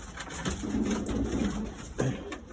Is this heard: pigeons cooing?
yes